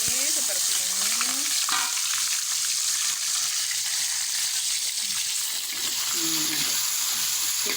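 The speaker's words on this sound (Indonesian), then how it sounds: "Kita tumis dulu bawangnya ini sampai layu, sampai harum bawang putihnya ini." Garlic sautéing in hot oil, giving a loud, steady sizzle that runs the whole time, with occasional scrapes of stirring and a few faint background voices.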